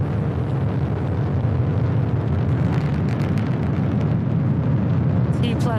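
A SpaceX Falcon 9 rocket climbs on its nine Merlin engines during the Crew-12 launch, giving a loud, continuous, broadband roar that holds steady throughout.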